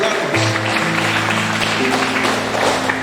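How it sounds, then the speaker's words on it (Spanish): A church congregation applauding during a service, a dense, loud and continuous wash of clapping that fills the whole stretch, with sustained tones from music underneath. "dale un fuerte aplauso al Rey de Reyes"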